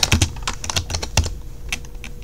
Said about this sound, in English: So let's type in something.